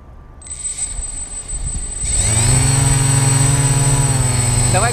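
A model aircraft's electric motor spools up for a hand launch, starting as a thin whine and then climbing into a loud, steady, close buzzing drone that holds at high throttle.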